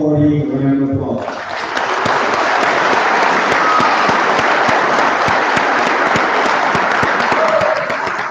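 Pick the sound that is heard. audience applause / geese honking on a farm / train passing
audience applause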